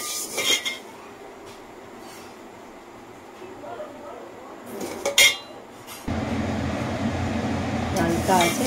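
Homemade sun-dried vermicelli is dry roasted in a pan, with a few sharp clinks of a utensil against the pan followed by a steady, close scraping and rustling as the strands are stirred.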